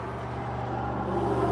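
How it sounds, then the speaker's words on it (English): Cars rolling past on a road heard as a steady low traffic hum with a gradual swell as a vehicle approaches, moderately faint and without voices. "There's definitely a lot of cars rolling through."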